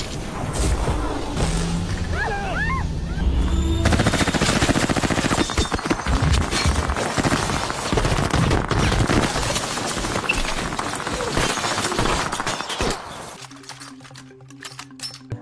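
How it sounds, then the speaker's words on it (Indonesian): Loud bursts of gunfire crackle and boom in rapid volleys, like a chaotic shootout, with occasional shouting mixed in before the firing cuts off near the end. "Alhasil adegan baku tembak pun terjadi."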